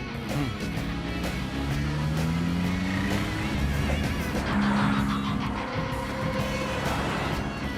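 A car pulls away quickly with a rising engine note and a brief tire squeal, close and fairly loud, set in a tense getaway scene with background action sounds and little talk.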